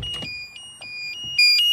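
Warning buzzer of a Renault 9 Broadway that sounds when the headlights are left on with the ignition off and the door open: a steady high electronic tone that runs throughout and grows louder near the end, with faint knocks beneath it.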